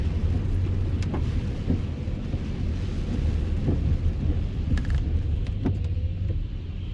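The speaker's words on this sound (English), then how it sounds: "And this rain is so cold." Cold rain pouring down steadily during a Pinellas Park cold front, a dense, constant wash with water splashing up nearby and a low rumble of passing traffic underneath, no voices.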